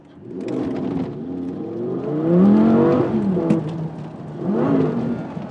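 A Lamborghini Gallardo Spyder launches hard from a standstill. Its engine roars loud and close, climbing in pitch through one long surge, dipping briefly, then swelling into a second rising pull. No voices are heard.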